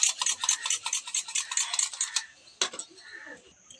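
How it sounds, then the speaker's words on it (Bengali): A spoon rapidly beats yogurt with ground spices in a bowl for egg korma: brisk, rhythmic clinking and stirring for about two seconds, then a few slower scrapes and taps. "দেখুন দইটা আমি ভালো করে ফাটিয়ে নিচ্ছি"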